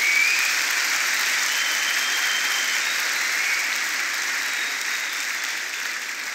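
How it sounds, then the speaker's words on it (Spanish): A church congregation applauding together at a service, sustained dense clapping that fills the room and tapers slightly toward the end. "Fuerte aplauso al Rey de Reyes."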